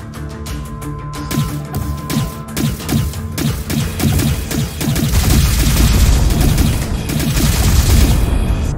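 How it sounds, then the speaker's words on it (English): Video game turrets firing continuously in Silverwing, rapid repeated impacts and booms building into a dense, loud barrage with crashing hits and explosions. "Turrets seem to be doing a pretty decent job."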